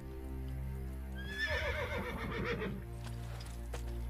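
A horse in a video game lets out a loud, wavering neigh that rises and trembles for over a second, set against a steady low game hum with faint hoof clops.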